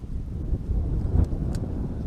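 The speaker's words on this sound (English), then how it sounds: "North wind blowing." North wind gusting beside a creek bank on a cold-front day, a steady low rumbling buffet across the mic that swells and dips throughout, with no other clear sounds.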